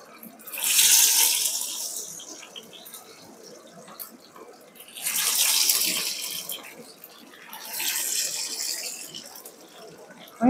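Prawn parcels sizzle as they are laid into hot mustard oil, for a Bengali chingri paturi. Three loud bursts of frying hiss swell and fade in turn over a low steady background, with no talking.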